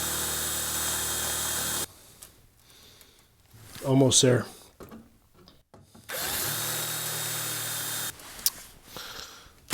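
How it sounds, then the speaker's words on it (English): A power drill bores out a seized screw head on a Ford Bronco dash defroster duct mount, loud steady whirring at the start and again mid-clip, broken by pauses where someone speaks briefly. "So I'm gonna just drill that head out."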